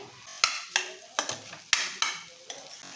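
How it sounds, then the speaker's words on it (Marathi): Potato bhaji with green onion is stirred in a pan: a quiet, close run of separate spatula taps and scrapes, roughly every half second, over a soft sizzle. "एक ते दोन मिनटं छान असं आपण परतून द्यायचं आहे"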